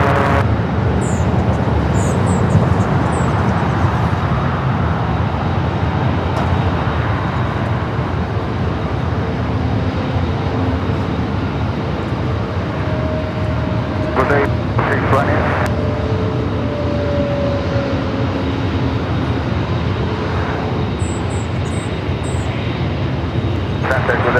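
Airliner at LAX taxiing toward a north side takeoff, a steady broad engine roar that persists throughout with a low rumble underneath, mid-distance and fairly loud, with brief tonal whines partway through.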